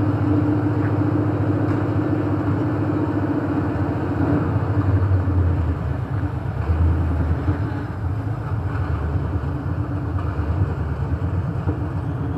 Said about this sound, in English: Since I got the camera on, my neighbor's got his truck going.